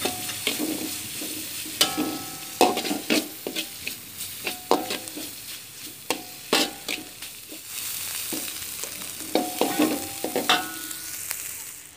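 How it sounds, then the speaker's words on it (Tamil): Salt, anchovies and chillies stirred in a pan for a winged bean dish, giving steady sizzling frying with repeated scraping strokes of a spoon against the pan, close and continuous, with no talking. "உப்பு, வச்சிருந்த நெத்திலியும் மிளகாயும் கலந்துக்கலாம்."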